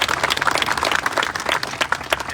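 An audience claps at a ribbon cutting for a satellite health clinic at Todd School in Aurora, Illinois, a dense burst of nearby applause that holds steady for a couple of seconds.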